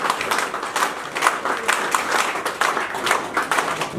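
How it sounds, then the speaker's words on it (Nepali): Audience at a Nepali film discussion meeting breaks into steady clapping, a dense, even wash of applause that carries on throughout with no voices over it. "एउटा तालीले उहाँलाई सम्मान गरिदिनुलाई म हार्दिक अनुरोध गर्दछु।"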